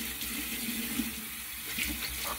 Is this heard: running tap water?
yes